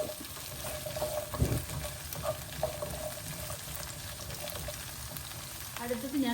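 Carrot cubes fry in a pan for chilli paneer, giving a soft, steady sizzle with occasional stirring scrapes and clinks, fairly quiet and close.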